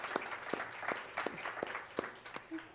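Scattered applause from a lecture audience at the De Margerie Lecture 2022, a few distinct claps over a faint, thin background of clapping, fairly quiet and distant.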